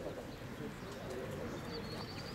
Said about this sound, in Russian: Голубь.